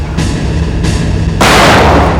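Three sharp, loud gunshot-like blasts in quick succession, the last one the biggest, booming and ringing out.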